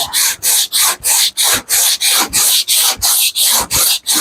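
Wood being sanded by hand with a longboard sander fitted with 80-grit discs: about eleven steady back-and-forth strokes, close and loud, each a coarse rasping rub with short pauses between.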